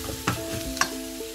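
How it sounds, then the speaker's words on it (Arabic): Small pieces of food frying in a pan, with a low continuous sizzle and two sharp scrapes as it is stirred, close and quiet, with no voices. "نزيدو عليها صغار وما يتنس، نحركو شوية"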